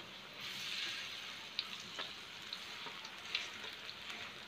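Tempe coated in flour batter frying in hot oil, a steady close sizzle with a few sharper pops and crackles scattered throughout, no voices.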